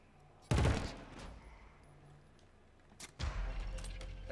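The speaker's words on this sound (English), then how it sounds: "All right, let's shoot it then." Killzone: Shadow Fall gunfire comes as a loud, broadband burst that decays over about half a second, then a second cluster of shots with rumbling aftermath a few seconds later, heard without talk.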